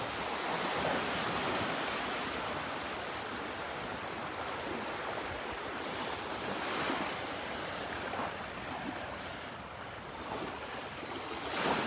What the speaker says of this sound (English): See those waves, totally different look.